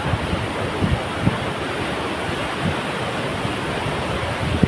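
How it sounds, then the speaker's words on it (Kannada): Water pours with force from opened dam gates near Ramanakatte Medini waterfall, a steady, dense roar of rushing water that fills the whole clip without pause, heard alone with no voices. "ನೋಡಿ ನೀರು ಫೋರ್ಸ್ ಹೆಂಗೆ ಬರ್ತಾಯಿದೆ, ಆ ಡ್ಯಾಮು ಅದು ಲಾಕ್ ಓಪನ್ ಮಾಡಿದ್ದಾರೆ"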